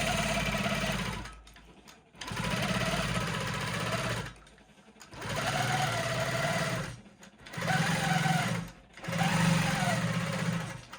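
A Janome Quilt Maker Pro 20 long-arm quilting machine stitching straight lines across a quilt, a fast humming motor buzz running in five sustained passes separated by short quiet gaps, close and clear with no talking.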